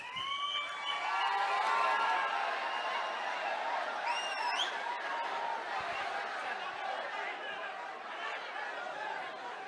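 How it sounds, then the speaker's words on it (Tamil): Audience applause fills a hall at a Tamil political party stage event honoring a speaker, a dense, steady wash of clapping mixed with crowd chatter and a brief whistle-like tone partway through. "அரங்கம் நிறைந்த கைத்தட்டல்"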